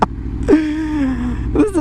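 A motorcycle engine revs while riding slowly along a street, with sharp throttle blips at the start, middle and end and a steady engine tone between them. There is no talking.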